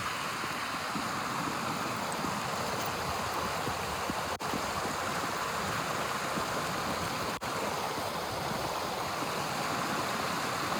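Creek water flows in a continuous broadband rush, steady and fairly close throughout, with no voices.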